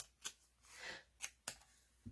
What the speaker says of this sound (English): Let me get my old decrepit scissors out.